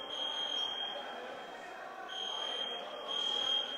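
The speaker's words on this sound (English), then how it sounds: "somebody probably pulled that fire alarm" A fire alarm buzzes in pulsing bursts through an indoor lacrosse arena during a game, a shrill repeating tone heard at moderate level over room noise.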